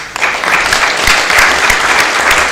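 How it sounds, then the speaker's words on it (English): A crowd at a workshop closing event claps loudly and steadily, a dense, continuous round of applause filling the whole moment. "I think we all deserve to give ourselves a round of applause"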